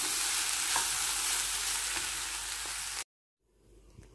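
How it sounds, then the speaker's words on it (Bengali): Grated coconut sizzling and being stirred in a hot pan, a loud continuous frying hiss that cuts off abruptly near the end, then resumes faintly. "এখন এই যে দেখুন আমার নারিকেলটা কিন্তু সুন্দর ভাজা হয়ে গেছে।"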